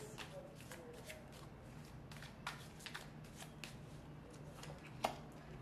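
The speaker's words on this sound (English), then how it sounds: "Let's pull one more card" Tarot cards being shuffled and pulled, with quick papery riffles and flicks close by in repeated bursts and one sharper snap near the end, fairly quiet and with no talk over it.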